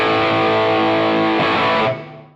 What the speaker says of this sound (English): it's got my favorite overdrive tone of all time